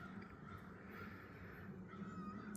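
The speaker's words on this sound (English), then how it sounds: "This is Joshua down there that someone dumped off months ago, and he became our outside cat" Joshua, a dumped stray outdoor cat, gives faint meows from a distance over quiet background hiss.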